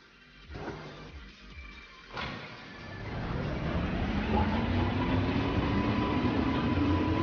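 A train in an animated cartoon starts up, its rumble swelling from quiet, scattered noises into a steady, loud, continuous running roar that holds to the end.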